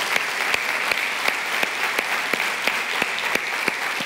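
Church congregation applauding together at a sermon, a steady wash of many hands clapping with sharper individual claps punctuating it evenly throughout, moderately loud and unbroken by any voice.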